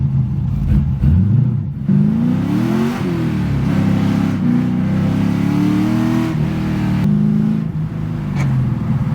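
An LS V8-engined car with a rebuilt T56 manual transmission revs loudly and steadily up close, its engine note rising and falling as gears are sought, with no talk over it.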